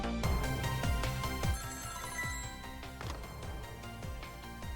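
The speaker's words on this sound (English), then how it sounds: "Convenient phone interruption." A telephone rings in the video game Ghost Trick: Phantom Detective, a repeating electronic ring over a rhythmic game music track with steady percussive hits, fairly quiet throughout.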